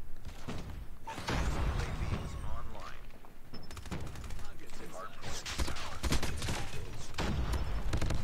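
Bursts of rapid automatic gunfire from the CBR in a shooter video game, sharp repeated cracks in clusters with pauses between, while a player talks excitedly over them.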